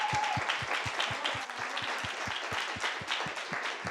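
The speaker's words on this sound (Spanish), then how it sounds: "Un fuerte aplauso para Iñaki," An audience applauds at a directing masterclass, a dense steady clapping that stays even throughout with a rhythmic low thump pulsing beneath it.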